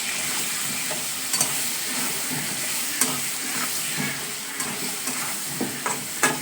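Green chillies and turmeric sizzle in hot oil in a pan, a steady broad crackle with scattered sharper clicks and stirring knocks; no one speaks.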